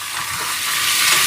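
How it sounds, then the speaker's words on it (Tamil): Tomatoes sautéing in a hot pan for a home-cooked dosai and sambar dinner give off a loud, steady sizzle and hiss that swells slightly toward the end, with no voices. "இப்போ தக்காளி பழமெல்லாம் நல்லா வதங்கி வரட்டுக்கும்"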